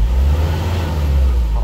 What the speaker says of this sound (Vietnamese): Nổ máy thì em ga lên để anh em nghe tiếng máy.